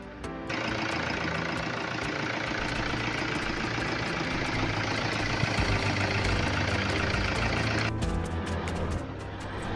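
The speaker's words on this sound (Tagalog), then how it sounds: "Isang Toyota Hilux 2KD engine. Mandar naman siya, walang check engine." A Toyota Hilux with a 2KD diesel engine that is losing oil and blowing white smoke idles steadily and loudly at close range, a continuous even rumble that changes slightly near the end.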